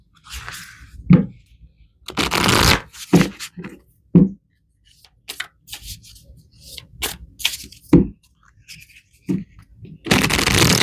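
Tarot cards are shuffled by hand in short, irregular rustling and flicking bursts separated by quiet gaps, close and fairly soft.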